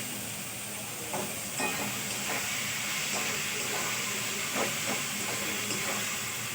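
Sugar added to hot oil sizzling in a pan as it cooks, a steady, close frying hiss with soft stirring clicks scattered through it, continuous and moderately loud.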